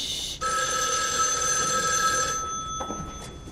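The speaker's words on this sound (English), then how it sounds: "I'm not picking up the phone!" A telephone bell rings loud and steady, a sustained metallic trill that holds for a couple of seconds and then cuts off, with no speech over it.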